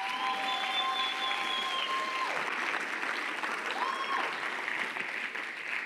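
A church congregation claps and cheers in acclamation of the Lord, a dense, sustained wash of applause filling the room, with sung or shouted voices rising above it.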